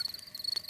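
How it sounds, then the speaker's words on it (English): Cartoon crickets chirping outdoors at night in a calm countryside scene, a thin steady high trill repeating in quick pulses, faint and alone. "That is the sound of crickets chirping."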